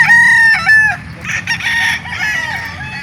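A gamefowl bullstag rooster crows loudly and close, with a long harmonic crow followed by further crowing and clucking at a market.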